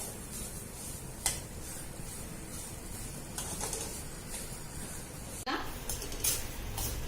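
Semolina roasting in ghee over a low flame as a spatula stirs it around the pan for sheera prasad, giving a soft continuous scraping with a few sharp metal clinks against the pan.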